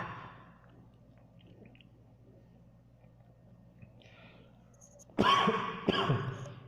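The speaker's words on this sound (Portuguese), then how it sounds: "Peço desculpa aí pela tosse" A man at a computer coughs twice near the end, two sharp harsh bursts following quiet room tone with faint background sounds.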